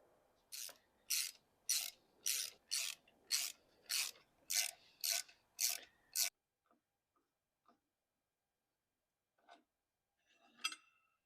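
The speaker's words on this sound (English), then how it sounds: "now I'm going to remove these 3 bolts and then take off this plate assembly" A ratchet turns bolts loose on a plate assembly of a Royal Enfield Bullet 500. About eleven evenly spaced ratcheting strokes sound close and crisp, followed by a few faint clicks and light metal handling in near quiet.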